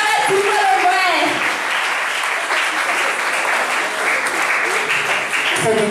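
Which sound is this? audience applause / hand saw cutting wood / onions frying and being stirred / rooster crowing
audience applause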